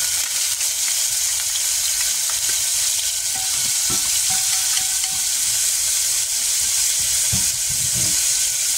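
Two tablespoons of minced garlic sweat in a thin layer of olive oil in a pan during healthy pasta prep, giving a steady, close, even sizzle throughout with faint scrapes and small pops.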